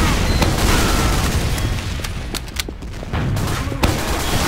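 Turret gunfire in the video game Team Fortress 2, a dense, continuous barrage of rapid shots and booms filling the scene with loud, chaotic noise throughout.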